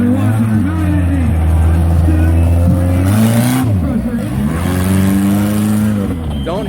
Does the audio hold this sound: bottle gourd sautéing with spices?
no